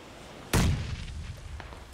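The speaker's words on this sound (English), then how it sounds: "I'm throwing a grenade" A grenade blast in the PUBG battle royale shooter hits as one sudden, loud boom, then rumbles and decays over the following second and a half.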